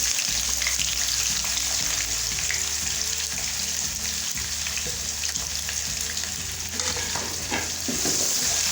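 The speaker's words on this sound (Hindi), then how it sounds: "प्याज को फ्राई कर लेंगे।" Onions frying with whole spices in a pan, a steady dense sizzle running throughout with a low hum beneath and occasional faint stirring clicks.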